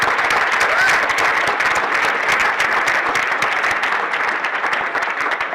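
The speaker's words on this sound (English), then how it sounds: "So if you guys could give them a round of applause, we'd really appreciate it." An audience at a hackathon kickoff event applauds steadily, a dense, loud wash of many hands clapping that holds for several seconds without fading.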